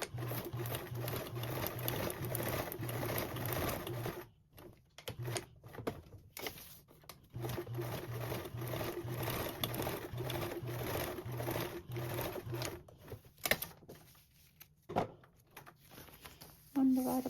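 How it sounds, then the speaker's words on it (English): A sewing machine stitches divider pockets into a duffle bag in steady, rapid bursts, pausing and restarting several times, close and clear, with a voice speaking over parts of the run. "We're just going to sew up and down,"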